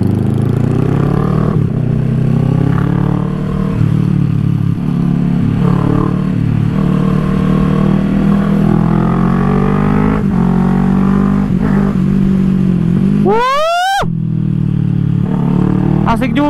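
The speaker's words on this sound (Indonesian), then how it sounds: "Knalpotnya juga nggak yang dalam kategori yang annoying gitu sih berisiknya." A Kawasaki Z650 motorcycle with a full-system aftermarket exhaust heard while riding, a steady loud engine drone that swells and eases with throttle, ending in a sharp rising rev burst, with a rider talking over it.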